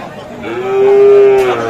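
A Sahiwal calf at a cattle market lets out a single loud, drawn-out moo, close by and rising then fading, with faint market bustle underneath.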